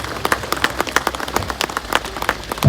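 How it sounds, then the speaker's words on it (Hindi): Crowd applause welcoming the Chief Minister at a Republic Day flag-hoisting event in a railway mechanical workshop in Gorakhpur, a loud, dense burst of many clapping hands that runs steadily throughout. "जोरदार तालियों से स्वागत कीजिए"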